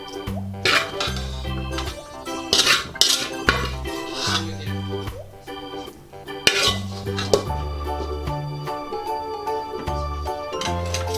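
Sautéed ingredients are tipped into a kawali and stirred while cooking bulcachong, with repeated metallic clinks and scrapes of a utensil against the pan, fairly close and steady, over a bed of background music.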